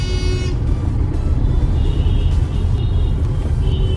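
Road traffic at a busy Lucknow intersection makes a loud, continuous engine rumble with vehicles passing close by, a few faint horn toots rising briefly above the steady roar.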